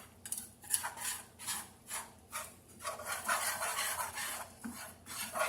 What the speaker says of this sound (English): And then I'll take my whisk and I'll whisk it all up to make it combine with that sausage.